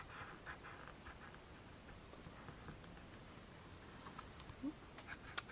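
Pencil coloring on a handmade paper greeting card, soft scratchy strokes repeating at close range, faint and quiet throughout, with a few light taps near the end.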